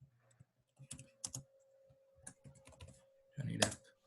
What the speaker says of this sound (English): and let's type the name